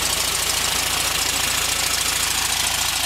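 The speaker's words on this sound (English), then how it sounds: "So it's running now. I'm gonna go ahead and shoot this video of the engine right now." A freshly rebuilt engine in a 1960 Volkswagen Karmann Ghia coupe idles with a loud, steady, rapid rhythmic chug, close up and continuous with no voices.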